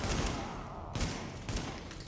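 Enemy gunfire in The Division video game, rapid bursts of shots rattling loudly and continuously through the whole stretch with a couple of sharper volleys.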